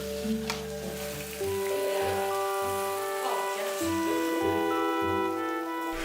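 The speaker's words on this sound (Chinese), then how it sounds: "而且火也不能太大，慢慢煎，慢慢煎。" Lamb intestines pan-fry slowly in oil over low heat, giving a steady soft sizzle with scattered pops and a few stirring knocks, heard close up.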